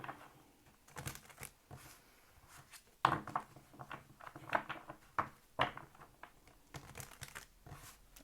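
Tarot cards being shuffled by hand, giving soft, irregular papery riffles and flicks in quiet bursts, close and faint, with a few brief murmurs between them.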